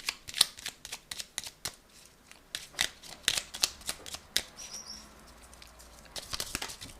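Oracle cards being cut and shuffled by hand: a run of soft, quick riffling flicks and slaps close by, quiet, with no voices.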